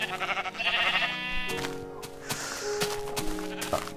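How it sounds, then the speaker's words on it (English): Sheep bleat in the video game Minecraft. A wavering bleat is heard near the start, followed by game thuds and other clicking effects, with no talk. "Hello, sheep."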